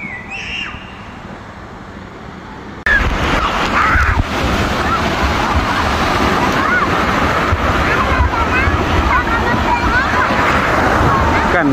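Sea waves wash near the shore on a rural coast, heard from a fishing boat used for nearshore night squid fishing, a steady loud roar with wind buffeting the microphone after a sudden rise in level.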